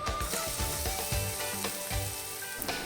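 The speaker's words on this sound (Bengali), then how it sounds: "ফোড়নগুলো খুব ভালো করে ভাজা হয়ে যাওয়ার পর কুচনো আপেলগুলো ছেড়ে দিলাম ওর মধ্যে" Chopped apples sizzle and fry in hot mustard oil with tempered five-spice seeds, a steady close crackle with clinks of stirring against the pan, no voices.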